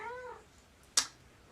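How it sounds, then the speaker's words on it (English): A pet cat meows once at close range with a drawn-out, wavering call, followed by a brief sharp click or tap in an otherwise quiet room. "that's just a kitty"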